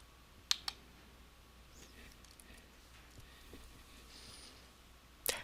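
A computer mouse clicks crisply in a quiet room: two quick clicks close together, then a single click a few seconds later, each sharp and near against faint background hiss.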